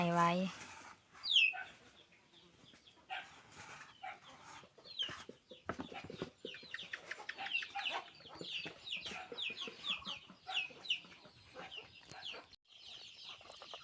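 Chickens and ducklings being fed at a Thai farmyard, with repeated clucks and high peeping chirps scattered throughout, fairly close, alongside occasional human voice and handling noises.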